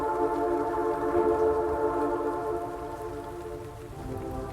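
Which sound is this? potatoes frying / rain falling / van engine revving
rain falling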